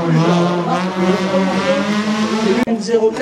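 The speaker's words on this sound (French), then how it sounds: "Stéphane P4, le pilote de la Subaru WRX, arrive devant nos yeux" A Subaru WRX race car in a hill climb event at Quettreville, its engine a loud, sustained harmonic drone with steady pitch, close and continuous, briefly cut by a sharp break near the end while a commentator talks over it.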